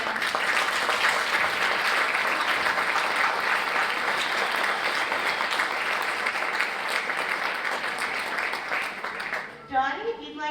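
Loud, dense applause from a graduation audience at the Rockland Adult Learning Center fills the space steadily, then tapers off near the end as a voice begins speaking.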